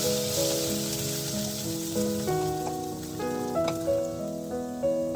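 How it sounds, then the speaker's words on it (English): Ginger and garlic sizzle softly in a little hot oil in a pan over a low flame, a faint continuous crackle beneath louder background music. "Once the oil is hot, on low flame, adding some ginger garlic. Saute it for 30 seconds."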